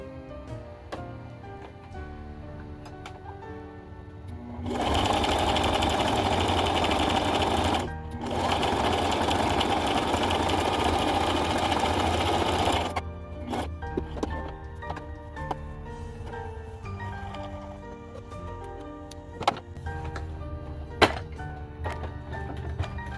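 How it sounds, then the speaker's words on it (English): A sewing machine runs in a loud, steady whirring burst for several seconds, pausing briefly once, then stops, leaving quieter clicks and handling sounds. "Make sure that your sewing machine is on the correct setting to sew whatever you're trying to sew."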